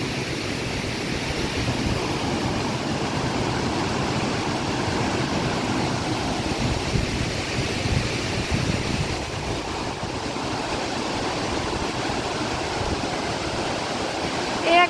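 A small waterfall pours and trickles down rocks in a continuous, close rushing wash of water, steady and alone throughout.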